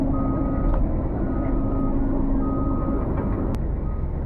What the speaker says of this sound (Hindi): अपनी गाड़ी की ट्राली जो है वो धीरे धीरे उठ रही है। और देख सकते हो भाइयों, यहाँ कैमरा में भी दिखाई दे रहा है, धीरे धीरे गिर रही है मिट्टी।